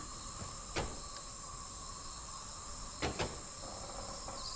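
In the Channelwood Age of Myst in VR, a lever sets a door opening, heard as a few scattered mechanical clicks and clunks over a constant hissing, humming backdrop.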